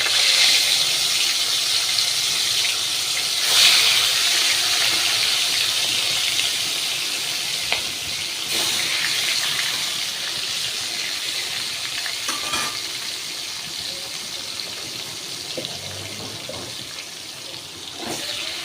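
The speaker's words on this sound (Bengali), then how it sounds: "এবার গ্যাসটাকে আমি হাই ফ্লেমে দিলাম। মাছটা ভাজা হোক।" Pangasius fish pieces frying in hot oil over a high gas flame, a steady dense sizzle running the whole time with a few sharper crackles and pops, close and loud, with no talking.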